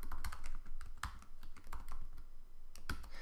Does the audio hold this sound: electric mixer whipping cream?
no